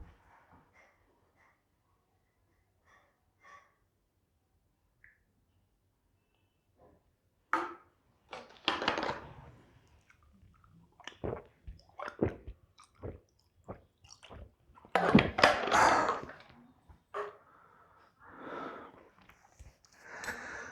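A person drinks some water, with sipping, gulping and swallowing sounds close to the mic in bursts after a quiet start, ending in a louder run of gulps and breaths.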